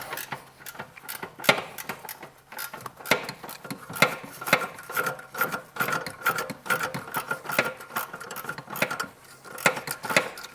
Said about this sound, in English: We got to hold it on the left side by the strut with the non-ratcheting wrench.